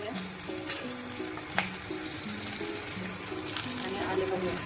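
Chopped onion and garlic frying in a pan, a steady close sizzle with a few sharp clinks and stirring scrapes, and a voice talking over it.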